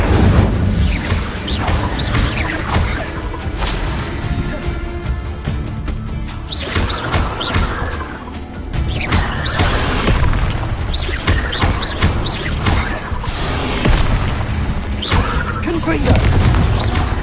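Incendio fire spell cast in Hogwarts Legacy: loud, continuous booming and whooshing blasts with crashing impacts, rising and falling in waves over the span.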